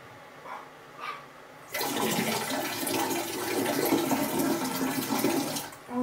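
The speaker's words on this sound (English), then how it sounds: "I'm glad we got a toilet on board, though. You can't use a toilet while we're on the motorway." A toilet flushes aboard a campervan, a loud sustained rush of water starting after a short quiet pause and running for about four seconds before cutting off, heard close up with no talk.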